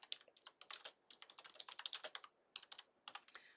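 Keys on a computer keyboard are typed in quick, uneven bursts of close, crisp clicks, with short pauses between words, quiet and with no voices.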